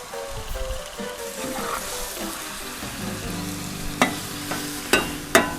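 Liver sizzles in a pan over a grill with a soft steady crackle, followed by several sharp clatters of a utensil scraping and knocking near the microphone.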